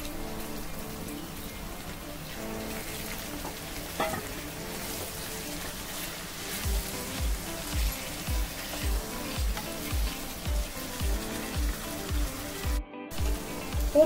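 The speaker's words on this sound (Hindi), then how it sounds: "अब इसमें ये मटन डाल देंगे। ये मटन भी हमें हल्का फ्राई करना है।" Mutton frying in a pan with browned onions, a continuous crackling sizzle like rain, joined midway by regular rhythmic stirring thumps, close and steady with no talk.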